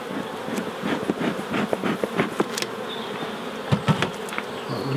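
Honey bees from a six-week-old swarm buzzing around a hive box, a dense continuous drone close by with individual bees whining past, no talk.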